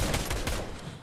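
Fortnite video game gunfire, a short close burst of several rapid shots in quick succession that fades away within about a second.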